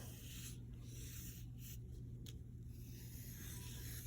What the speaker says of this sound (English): I'm gonna take and draw a little bit bigger circle around it